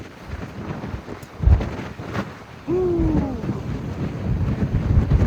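Wind buffets the microphone on the open outer deck of a ferry sailing from Vancouver to Victoria, a steady rushing roar with a brief tonal hoot partway through, while voices speak faintly.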